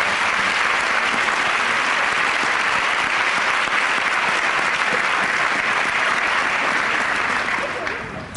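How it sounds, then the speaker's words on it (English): A large audience at a scholarship event speech gives sustained, dense applause, a loud continuous roar of clapping that holds steady and begins to fade only at the very end. "So I really want to give you a round of applause"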